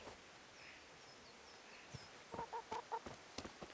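Chickens in the medieval game Kingdom Come: Deliverance give a few soft clucks and short calls near the end, faint and close against quiet outdoor ambience with occasional chirps, no talking.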